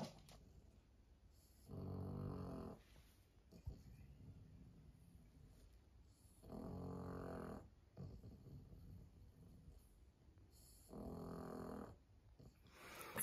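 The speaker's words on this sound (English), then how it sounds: "all I can hear is Winifred snoring." A dog snores in three slow, deep rumbling breaths spaced a few seconds apart, with quiet room noise between them.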